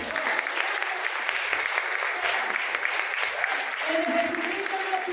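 A church congregation applauds during a Spanish-language sermon, a steady wash of many hands clapping that holds for several seconds at an even level, with a few voices calling out toward the end.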